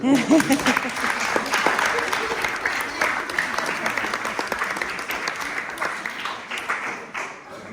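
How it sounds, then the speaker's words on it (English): A dinner audience at a school seniors' formal dinner, during retirement speeches for a teacher, gives sustained, fairly loud applause lasting about eight seconds, with a voice briefly heard at the start. "Give him a clap, please."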